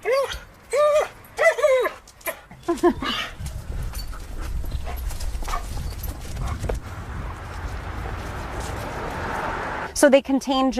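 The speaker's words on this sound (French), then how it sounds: "Leslie emmène Steve, son jeune chien-loup de 4 mois" A four-month-old wolfdog yelps and whimpers in short high bursts while out on a walk, with footsteps and outdoor rustling between the cries.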